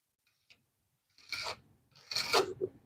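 Steel knife blade drawn across sharpening stones to take the burr off, two separate raspy strokes after a tiny tick, fairly close and with no voices.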